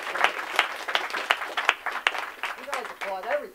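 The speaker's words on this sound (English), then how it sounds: "guys applaud everything" Scattered, uneven audience clapping at a talk about writing, with distinct individual claps rather than a full ovation, and voices speaking over the final second or so.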